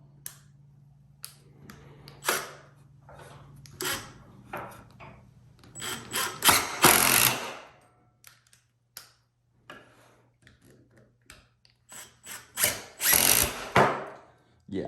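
Power drill fitted with a Klein impact flip socket driving hex-head fasteners, several short whirring bursts with pauses and clicks between them, the loudest runs coming in two strong bursts.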